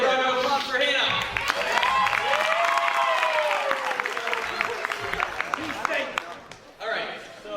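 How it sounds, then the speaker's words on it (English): An audience claps for a participant at a live game event, a burst of applause mixed with loud overlapping voices and cheering that fades out toward the end. "can we get a round of applause for Hannah?"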